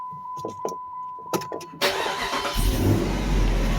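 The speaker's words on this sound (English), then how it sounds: "So it sounds good, but I don't know how good y'all can hear it" After a steady whine and a few faint knocks, a Jeep engine with an exhaust leak fires up and runs close by with a loud, rough, sputtering rumble.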